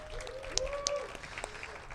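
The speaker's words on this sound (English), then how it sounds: "Yes, let's applaud that." A small audience at a community celebration variety show claps quietly and sparsely, the faint applause broken by a few sharp individual claps and an audible tonal hum in the room.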